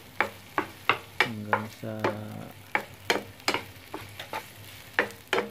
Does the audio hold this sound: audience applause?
no